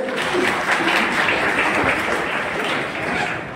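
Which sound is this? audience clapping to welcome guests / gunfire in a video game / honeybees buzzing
audience clapping to welcome guests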